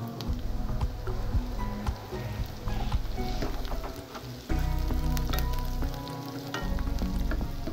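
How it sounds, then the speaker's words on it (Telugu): Sliced onions fry with turmeric and ginger-garlic paste for chukkakura pappu charu, a loud, close, dense sizzle with crackling pops and spatula knocks, rising briefly in intensity midway. "ఉల్లిపాయ ముక్కలు కొద్దిగా ఫ్రై అయిన తర్వాత పసుపు, అల్లం వెల్లుల్లి పేస్ట్ వేసుకోవాలి"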